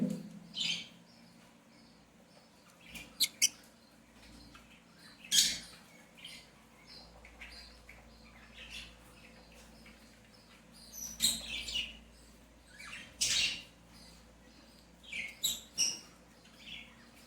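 Three lovebird chicks in a clay pot give thin, high chirps and squeaks in short scattered bursts, close but faint against a quiet background.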